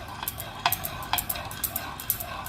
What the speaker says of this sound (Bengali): দিয়ে দেওয়া হচ্ছে সামান্য পরিমাণে জল দেওয়ার পর ভালোভাবে নাড়িয়ে নেওয়া হচ্ছে